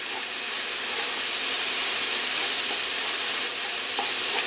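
Whole spices stirred in hot grease for a Greek pastitsio meat sauce give off a loud, steady sizzle and hiss, with faint scraping of the spoon now and then and no voices.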